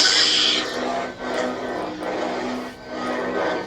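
A humming electronic lightsaber drone with swelling, whooshing surges as it is swung, steady and close, with no talking.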